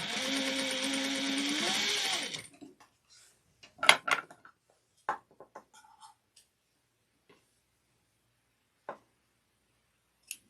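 A sewing machine runs a regular stitch on a vintage-style Donna handbag, one steady whir of about two seconds, followed by a few faint clicks and handling knocks.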